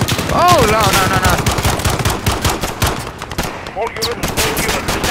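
Rapid automatic gunfire in the video game Call of Duty: Modern Warfare, a loud, dense crackle of shots that runs without a break, with shouted voices and chaotic battle noise mixed in.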